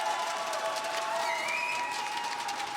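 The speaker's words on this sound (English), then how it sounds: "the crowd have definitely shown up today." An esports arena crowd at a Rainbow Six major semi-final applauds in a steady wash of clapping with faint cheers, heard at a moderate distance without a break.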